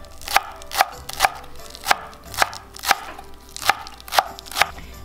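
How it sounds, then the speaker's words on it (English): Knife chopping homegrown backyard green onion on a cutting board, about ten crisp, evenly spaced chops close up, with no talking. "next, I'm gonna chop our green onion too"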